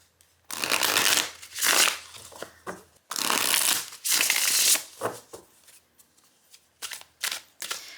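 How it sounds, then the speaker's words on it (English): Tarot cards from an Ink Witch deck are riffled and overhand-shuffled near the mic in several loud, crisp bursts of flicking, each a second or so long, separated by short pauses and softer handling rustles. "let's give it a shuffle"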